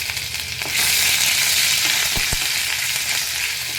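Finely chopped ginger and vegetables sizzle loudly in a hot pan, a steady close frying hiss that swells as the ingredients go in, with a couple of soft clunks and no voices.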